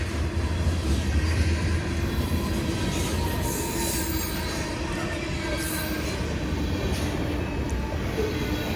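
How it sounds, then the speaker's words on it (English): A CSX freight train on the Henderson Subdivision rumbles steadily past nearby, wheels grinding and faintly squealing on the rails in a continuous heavy roar with no talking. "These trains run daily."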